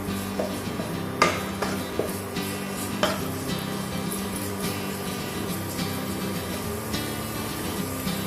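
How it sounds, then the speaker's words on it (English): Chopped onion sautes lightly in hot oil in a pan, giving a steady low sizzle throughout. A few sharp clicks and taps from stirring break through at irregular intervals. "the oil gets hot, I'll put the chopped onion. And saute it"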